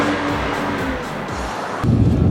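A BMW 535i driving hard on a racetrack, a steady engine drone with rising and falling revs and a louder surge near the end, heard from inside the car with no talk.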